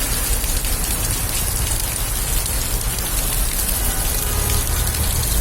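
Heavy summer rain in Moscow pouring down hard, a dense, continuous hiss of drops hammering surfaces nearby, loud and unbroken with no voices.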